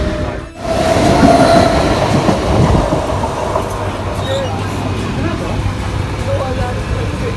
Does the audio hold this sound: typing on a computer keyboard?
no